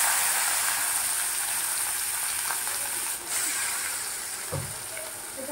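Fish roe frying in a hot kadai over a low flame, heard as a dense, steady sizzling hiss with one faint low knock near the end.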